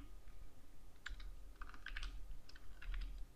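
Quiet keystrokes on a computer keyboard, typed into a PDF program's numbering settings, come as short bursts of clicks over about three seconds against a low background hum, with no voices.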